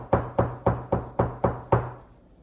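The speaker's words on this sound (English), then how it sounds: "that sounded like a knocking on the door, didn't it?" Seven evenly spaced solid knocks, like knuckles on a wooden door, loud and close with a short ring after each, alone without any talk.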